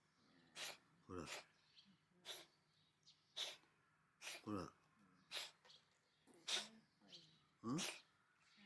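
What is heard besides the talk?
stray cat sneezing repeatedly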